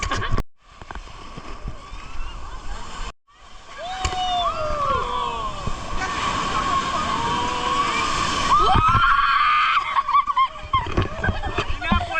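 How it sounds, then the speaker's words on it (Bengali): Sea waves breaking close by at Puri beach, a loud continuous wash and slosh of surf rising and falling, with people talking over it and honk-like cries in between. "ঢেউটা কত কাছ থেকে এটাই বিশেষত্ব"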